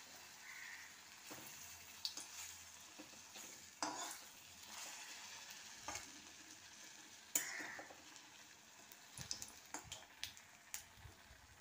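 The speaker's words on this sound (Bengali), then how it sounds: "এঁচোড়টাকে বল করে তার ভেতরে দুটো চিংড়ি দিয়ে দিলাম। এবার এটাকে কোপ্তার মতো ভাজছি।" Jackfruit balls stuffed with prawns fry like kofta in hot oil, a soft continuous sizzle broken by occasional light clinks and stirring scrapes, fairly faint throughout.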